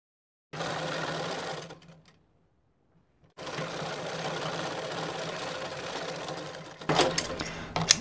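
A sewing machine stitches palazzo pants in a close, steady whirring run that stops for about a second, then resumes for a longer continuous pass ending in a few louder clunks.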